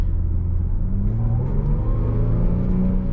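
A supercharged 3-liter engine in a 2017 Jaguar F-Pace 35T SUV revs under throttle, a steady low rumble that builds in pitch through the clip, loud and close from inside the cabin.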